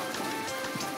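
Rain falls steadily in a short, even patch of dense pattering with no breaks, close and moderately loud.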